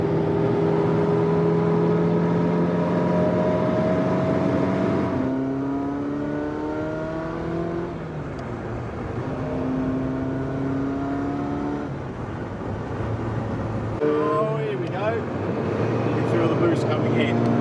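Ferrari 288 GTO turbocharged engine pulling hard under boost from inside the car, with rising engine tones through several gear changes, loud and steady throughout, and someone talking over it.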